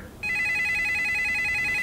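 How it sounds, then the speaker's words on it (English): An electronic telephone ring starts abruptly and holds as a steady, bright, continuous tone, fairly loud and alone with no talking. "Phone call."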